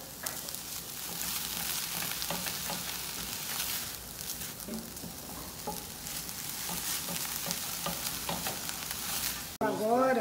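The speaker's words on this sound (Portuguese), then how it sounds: "diminui o fogo aqui, mistura e deixa secar" Crab meat soaked in lime juice is stirred in a pan on the stove over lowered heat, a steady close sizzle running throughout with repeated scraping and stirring strokes and a brief clatter at the very end.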